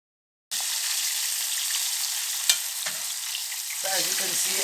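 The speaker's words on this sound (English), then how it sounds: "okay, so let's get started with the frying." Fish fries in hot oil for a pickled fish dish, a loud, steady hiss and crackle of sizzling that starts abruptly and keeps up throughout, with a brief clink and some bubbling stirring noise toward the end.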